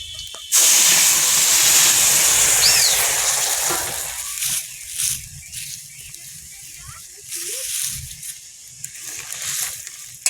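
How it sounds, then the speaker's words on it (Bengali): Crab curry with potato and Malabar spinach poured into hot oil over browned garlic bursts into a loud, close sizzle that gradually fades into uneven hissing bursts, with a voice briefly heard. "রসুন লাল লাল হয়ে গেছে, তরকারিটাই ঢেলে দাও।"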